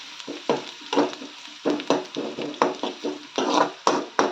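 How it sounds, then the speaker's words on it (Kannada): Onions frying in a pan for egg curry, with repeated stirring strokes scraping through a steady close sizzle in a quick irregular rhythm. "ಈರುಳ್ಳಿ ಒಂಚೂರು ಫ್ರೈ"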